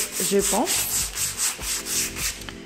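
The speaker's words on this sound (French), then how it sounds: "je fais le ponçage avec le 180" Wooden stairs being sanded by hand with 180 grit sandpaper, a steady rhythmic rasping of strokes back and forth, close and fairly loud, with no talking.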